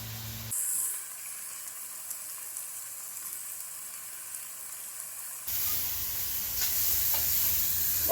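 Five-spice pork chops brown in a frying pan with a steady, bright sizzle and hiss that changes in tone partway through and grows louder near the end. No one speaks.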